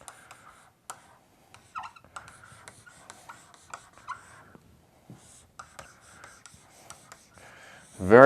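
A pen or pencil scratches and taps on paper, drawing a circuit diagram by hand; close, quiet strokes come in short irregular bursts with small pauses, and a louder rustle closes the stretch.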